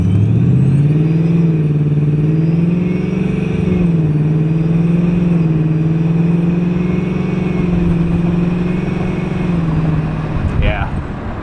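A supercharged Ford Mustang 5.0 fitted with an MBRP Street exhaust holds a loud, steady low engine drone that rises and dips slightly while running, ending in a brief higher burst.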